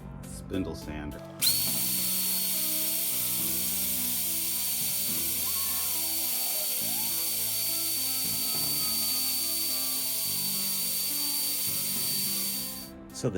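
A spindle sander runs steadily against an MDF guitar template, giving a continuous motor whine with a high tone and low rumble. The machine starts abruptly and then winds down at the end.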